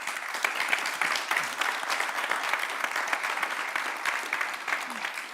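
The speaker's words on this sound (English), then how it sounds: "Let's give the panelists a round of applause" Audience applauding panelists at a session on decarbonizing buildings, dense continuous clapping with a brief voice underneath.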